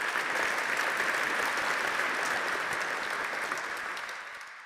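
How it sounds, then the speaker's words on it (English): Audience applause fills a hall at a school's annual dinner after mention of an all-boys K-5 school: dense, steady clapping from a large crowd, close and loud, holding for several seconds before tapering slightly at the end. "we can clap for that"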